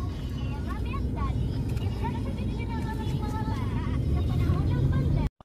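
A car engine idles steadily with a low rumble throughout, cutting off abruptly near the end, while people talk over it.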